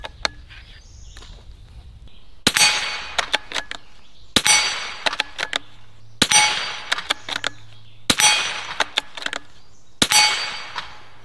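Standard velocity .22 LR rounds strike a steel target five times in a steady rhythm, each a bright metallic clang with a short ringing decay, with no talking.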